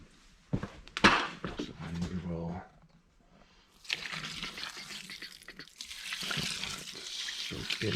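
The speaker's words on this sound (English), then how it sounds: "Now, I'm gonna add some water." Water is poured from a pitcher into a worm bin with drain holes, splashing and gurgling in two bursts separated by a short pause, with a clatter at the start.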